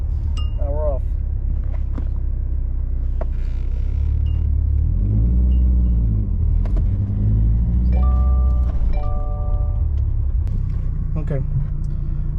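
Manual-transmission car pulling away in first gear, a steady low engine rumble with a rising rev throughout, loud and close inside the cabin, with a person talking over it.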